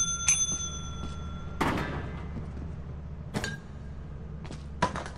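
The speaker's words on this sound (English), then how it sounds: "Ring bell." A bell rings in the video game Lethal Company, sounding as a few sharp, bright metallic strikes spaced apart over a steady low background hum, with no talking.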